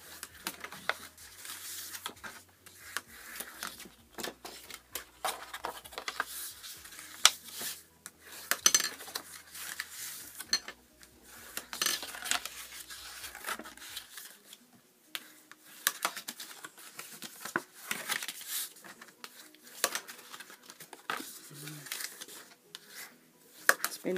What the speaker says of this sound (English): Now we're going to fold and burnish all our score lines.